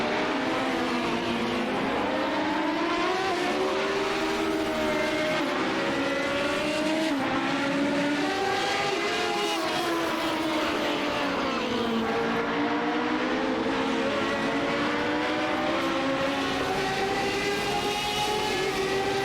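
Race cars circle Okayama in the iRacing sim, a steady, continuous engine drone that rises and falls in pitch as the pack shifts through gears, loud and unbroken for the whole stretch with no voices.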